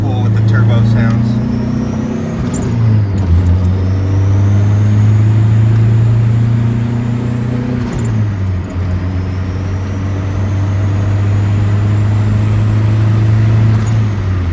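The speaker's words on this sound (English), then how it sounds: "One more little pull with the turbo sounds." A turbocharged Honda Civic hatchback engine hums steadily close by, its tone rising in stepped pulls with a whistling turbo spool climbing above, while a voice talks over it.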